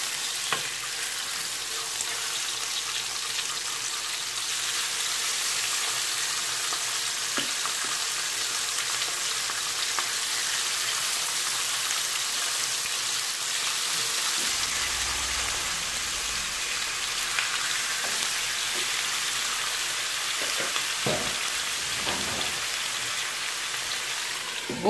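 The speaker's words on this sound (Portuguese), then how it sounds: "Aí ali, ó, gente, já tô fritando a batatinha." Frozen potatoes fry in a hot pan with a steady, dense sizzle and crackle that runs continuously at moderate loudness, with a few faint clinks near the end.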